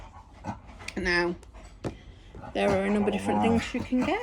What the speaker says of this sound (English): the dog rolling around the floor